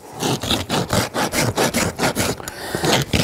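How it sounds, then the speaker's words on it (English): A farrier rasps a horse's hoof in quick, regular strokes, about a dozen rough scraping passes close up, with a small break near the end and no talk. "I'd rather do it with my rasp"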